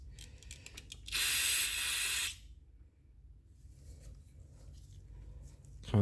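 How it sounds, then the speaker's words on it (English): A single loud hissing spray of carburetor cleaner from an aerosol can into a Generac GP3250 generator carburetor lasts about a second, set between quieter scraping and handling noises. "Spray some carb cleaner in there."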